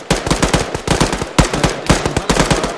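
Rapid automatic gunfire in the military shooter game Arma 3, loud sustained bursts of closely spaced shots with brief gaps between volleys, and a single short spoken word.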